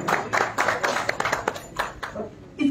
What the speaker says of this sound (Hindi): जोरदार तालियां इनके लिए भी।